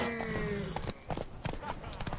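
Horse hooves clip-clopping in the video game The Witcher 3, quick irregular thuds mixed with game sounds and brief voices.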